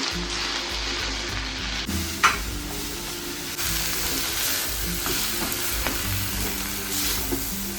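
Onion fries in a pan for taakla leaf vegetable while it is stirred. A steady, close sizzle runs the whole time, with a few sharp scrapes and clinks from the stirring and no talk.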